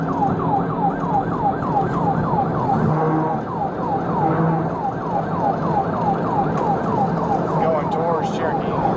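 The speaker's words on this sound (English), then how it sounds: "activated emergency lights and sirens" A police car siren wails during a high-speed pursuit, sweeping up and down in rapid, steady cycles. It is loud and continuous over a heavy bed of engine and road noise.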